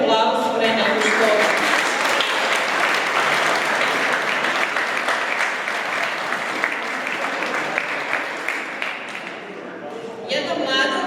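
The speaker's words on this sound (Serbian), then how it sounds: "Jedan veliki aplauz pre nego što" A school audience applauds loudly and continuously at an end-of-year school performance, a dense wash of many hands clapping that holds steady before thinning out near the end, with voices mixed faintly in.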